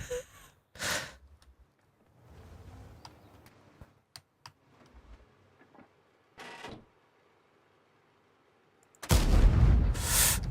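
Gunfire from the tank game World of Tanks comes as a few separate sharp blasts, each followed by a long quiet gap. A loud burst near the end is the heaviest.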